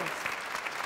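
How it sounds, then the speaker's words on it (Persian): An audience claps in a brief, lively burst of applause, a dense patter of many hands at moderate volume with no voices over it. "فرناز رو تشویق کنه"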